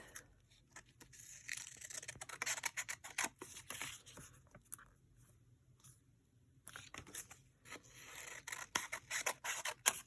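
Scissors trim a paper picture for a junk journal, giving close, faint, irregular snips and scratchy cuts in short bursts with pauses between them.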